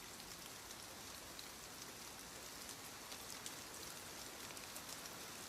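Steady rain falls through a dark night, a continuous dense hiss of drops with no pauses or other sounds standing out.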